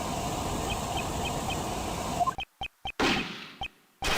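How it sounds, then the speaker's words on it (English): A gunshot rings out in a courtroom-style detective video game, heard as a sharp burst that cuts off a steady background hum, followed by a few short clipped bangs and a clang. "that was... a gunshot"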